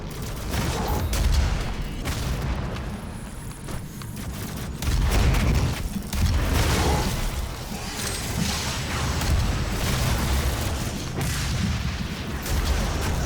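Rapid explosions from the player's own weapon in the video game Doom, a loud sustained barrage of booming blasts and gunfire with heavier surges partway through.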